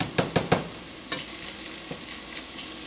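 Bacon cooks in a pan with a steady soft sizzle, and a few brief utensil scrapes and knocks sound close at the start and again around the middle.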